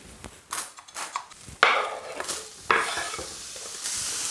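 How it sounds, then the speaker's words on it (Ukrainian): Onions sizzling in hot oil while being stirred for beef stroganoff, with several sharp scraping strokes of a utensil against the pan over a constant frying hiss. "Тож тепер додаємо трішки олії та будемо смажити цибулю."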